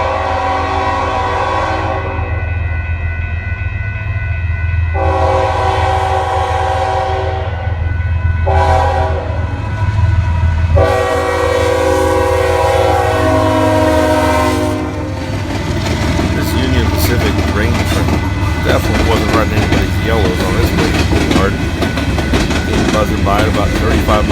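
An AC45CCTE freight locomotive sounds several long, loud horn blasts as it approaches, then its heavy engine roar and the rattling clatter of the passing train carry on without a pause. The setting is a Kansas City rail line at night.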